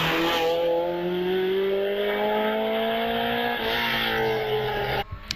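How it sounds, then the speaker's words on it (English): A 360 Spider race car with a flat-crank engine accelerates hard up the course at a Prescott championship hill climb. Its loud, close engine note climbs steadily in pitch for about five seconds, then cuts off abruptly. "Doesn't sound like a V8. I think it's a flat crank, of course, so effectively it's 2 4-cylinders, so it doesn't sound like an American car."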